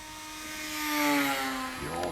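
Durafly MFX Racer, a 715/815mm EPO electric 4S RC plane, flies past with a high whining motor whose pitch swells as it nears and then drops in a clear Doppler sweep, loud and close, with no talking.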